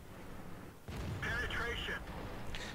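A tank in World of Tanks takes a hit from a 50M shot, a muffled booming impact with rumbling low end and a brief metallic ring, heard amid continuous game noise.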